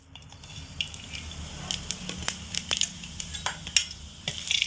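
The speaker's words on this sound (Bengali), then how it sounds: "একই তেলের মধ্যে এবার দিয়ে দেব ফোড়নে দেব অল্প একটু কালো জিরে কিছুটা পরিমাণে গোটা মৌরি আর দুটো তেজপাতা" Black cumin, whole fennel seeds and two bay leaves hit hot oil for tempering, giving a close, steady sizzle broken by sharp crackles and pops.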